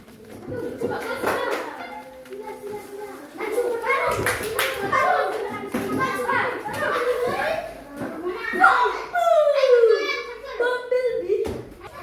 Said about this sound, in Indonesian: Kelompok 2, tepuk tangan untuk kelompok 2 pemenang ini.